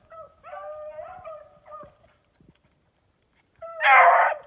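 A beagle barks once loudly near the end, after a stretch of quieter dog whines and yelps, during a white hare hunt.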